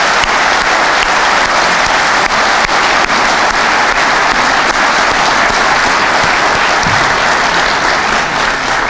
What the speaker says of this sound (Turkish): İzin verirseniz ben de burada hepinizi alkışa davet ediyorum.